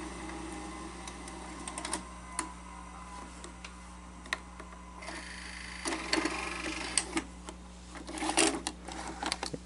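A Sanyo 7500 Beta HiFi VCR under repair threads a tape, a string of small mechanical clicks, ticks and whirring motor bursts up close over a low steady hum.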